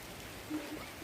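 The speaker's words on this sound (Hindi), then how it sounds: "आवाज़ आ रही होगी आपको बारिश की।" Steady rain falls outside a village home in the Himachal hills, a dense, even wash of noise filling the whole clip at moderate level with no distinct drops standing out.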